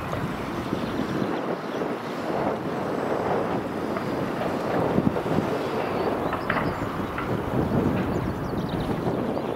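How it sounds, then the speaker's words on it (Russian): Strong wind buffets the microphone in gusts while waves wash and churn nearby, a rough, constant roar with no voices. "холод, да ветер, да волны-то какие"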